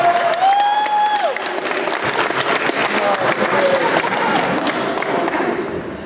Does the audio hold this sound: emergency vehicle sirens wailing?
no